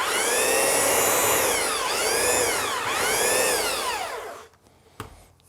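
A handheld belt sander working on wood, its motor whine swelling and dipping as the throttle is eased on and off several times before it winds down and stops, leaving brief quiet knocks.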